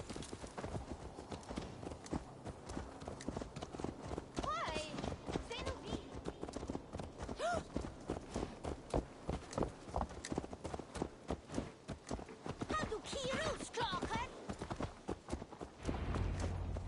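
Horse hooves clip-clop in the video game Assassin's Creed Valhalla, a steady trotting rhythm that runs under ongoing dialogue and game sound for the whole stretch.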